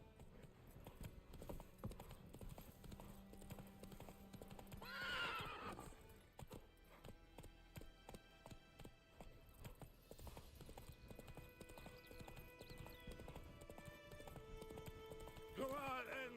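Roach the horse galloping in The Witcher 3, hooves clip-clopping in a steady quick rhythm with a couple of whinnies, set against game ambience and voices talking.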